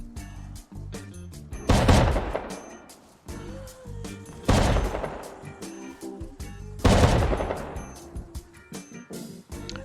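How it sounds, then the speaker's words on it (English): Shotgun traps in a Rust base fire three heavy, booming blasts a few seconds apart, each trailing a clattering crash, with faint mechanical clicks and rattles between them. "the shotgun traps pretty much take care of everything before the turrets and flames can even go off"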